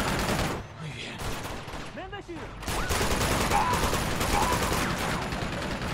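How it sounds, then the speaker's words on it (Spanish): Automatic gunfire from enemies in the action video game Uncharted 2, rapid bursts of shots mixed with explosions and game effects, fairly loud throughout, with someone talking at times. "Guarda con la ametralladora, guarda."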